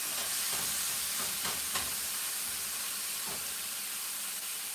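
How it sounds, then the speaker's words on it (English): Food sautéing in a pan on a home stove gives a steady, close sizzling hiss, broken by a few soft stirring scrapes, with no talking. "Shouldn't take too long to saute this up."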